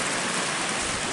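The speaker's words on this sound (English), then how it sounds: "Here's our river." A river flowing beside a hiking trail near Malan's Peak and Basin gives off a steady, even broadband rush. It is moderately loud and continuous, with no voices over it.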